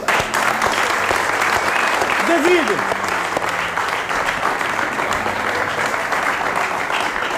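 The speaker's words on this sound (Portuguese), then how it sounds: "Salva de palmas para Pepe" Late-night television studio audience gives steady, loud applause for a man named Pepe after a bit involving a Limousine bull, with a voice briefly speaking over the clapping.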